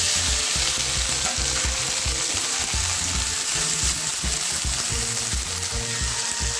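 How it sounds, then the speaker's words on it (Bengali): Long beans (barbati) frying in hot oil in a pan after potatoes, a loud, continuous crackling sizzle with bubbling and stirring noises, no voices. "তেলটার মধ্যে এবার বরবটিগুলো রেখে দেব।"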